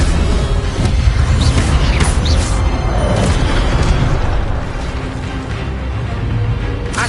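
Incendio fire spell blasts in Hogwarts Legacy, dense loud booming bursts and rumbling crackle running continuously, with heavy low-end impacts that ease off slightly toward the end.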